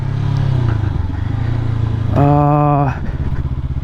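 A 2022 Honda CB500X ridden off-road gives a loud, close engine drone with wind rumble, then a brief rising whine with a tonal squeal near the middle before the steady engine note returns.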